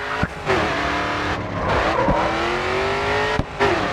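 Racing car in Grid 2 sliding through a turn, loud engine note rising and falling with rough tire scrub and squeal, a short throttle lift and rev change near the end.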